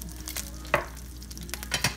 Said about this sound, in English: And then we're going to add the other pat of butter.